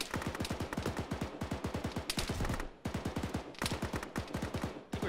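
Rapid automatic gunfire from a military shooter game rattles in dense, continuous bursts with short breaks, close and loud, with no talk over it.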